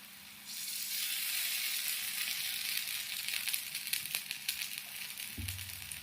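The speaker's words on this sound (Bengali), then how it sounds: "2 পিঠটা লাল করে ভাজা হয়ে গেছে।" A stuffed Bengali snack, a filled fried breakfast cake, fries in a pan over low heat, giving a steady close sizzle with occasional light crackles and a soft clank near the end.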